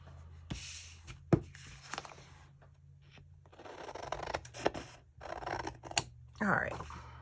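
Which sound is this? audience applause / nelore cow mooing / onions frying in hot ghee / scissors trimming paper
scissors trimming paper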